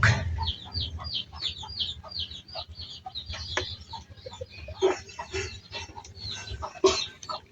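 A hen, one of a pair of breeding fowl, clucks in short repeated bursts close by, with other birds calling in the background and no talking.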